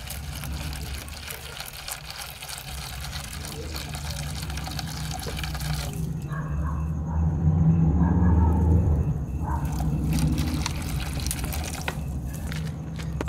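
Water pours into a bottle set out for ground squirrels, with a low gurgling rumble that swells midway and then settles, close up and fairly quiet.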